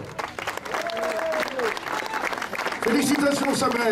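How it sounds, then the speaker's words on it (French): An audience applauds a person at a local gathering. Dense, continuous clapping runs under a voice speaking, and it swells louder in the final second. "On applaudit"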